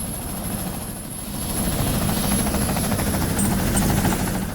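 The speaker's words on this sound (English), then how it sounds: "now pull down the helicopter" Helicopter in the video game Ghost Recon Future Soldier, a loud continuous rotor thrum and engine buzz close by that grows slightly stronger as it goes.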